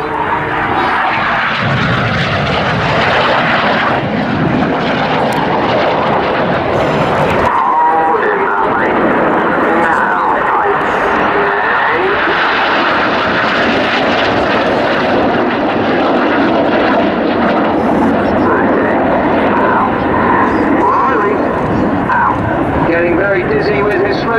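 Red Arrows jets in a flying display at Cosford roar loudly and continuously overhead as the team crosses in a 6G manoeuvre. A commentator talks throughout over the engine noise.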